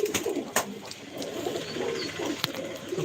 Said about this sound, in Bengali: চারটে পায়রা ছাড়লাম দেখা যাক কতক্ষণ ফ্লাইং করে পায়রাগুলো